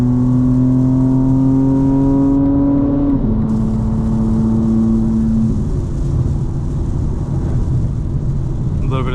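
A 2025 BMW M4 Competition xDrive drives in fourth gear on a rain-soaked road, its loud engine drone climbing steadily in pitch, dropping sharply once, then holding a steady tone under constant road and wet-tyre rumble.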